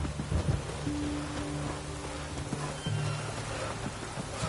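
In-game rain falls steadily in The Witcher 3, a constant hiss of drops on surfaces with a low tonal hum beneath, while a horse briefly whinnies and shuffles nearby.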